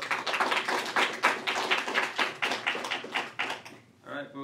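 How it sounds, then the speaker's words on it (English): A lecture audience claps at the close of a blockchain developer class, a loose patter of hands that is fairly close and sustained for a few seconds before stopping abruptly, then a brief voice. "Good round of applause."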